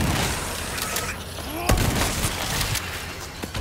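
Shotgun blasts ring out in a mobile shooter game, with sharp bursts of gunfire and a prominent crack near the middle amid busy game noise and background voices.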